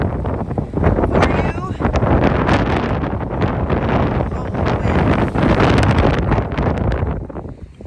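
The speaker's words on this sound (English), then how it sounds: "wind. Here's our windy trail." Strong gusts of wind buffet the microphone in a continuous roar on a mountain trail, with a voice speaking briefly underneath.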